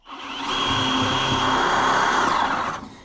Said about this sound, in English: He said as he drills through a weld.